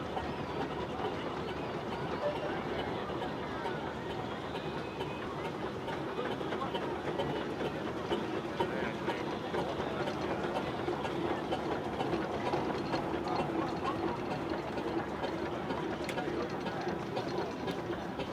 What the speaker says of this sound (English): that's the black Fowler engine just coming up towards the commentary point